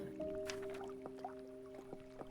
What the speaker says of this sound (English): I love listening to water.